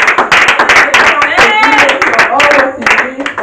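A church congregation claps in acclamation of the Lord, a dense fast run of loud, close handclaps mixed with voices calling out and singing over them.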